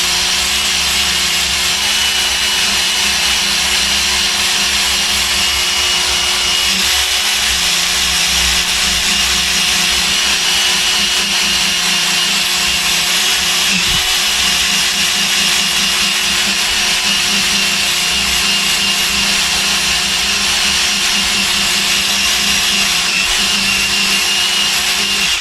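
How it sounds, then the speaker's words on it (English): A polishing mop on a rotating buffer works over an antique French clock, giving a loud, steady rushing whir with a continuous motor hum and faint rubbing fluctuations throughout. "I've got a polishing mop on this, obviously, and you can just be careful with it, but give it a going over with that."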